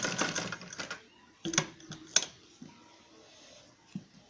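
A home sewing machine stitches a zip onto fur cloth for a bag, giving short quiet bursts of rapid stitching with sharp clicks between them and pauses in between.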